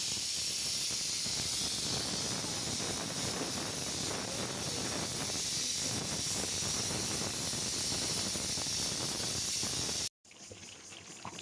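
Pressure cooker on a stove releasing a loud, continuous close hiss of steam, sustained and even for about ten seconds before it cuts off abruptly and a fainter hiss resumes.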